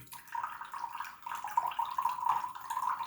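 A kitchen tap runs while tea is being made, giving a steady close stream of water that swells and eases over a few seconds, with no speech.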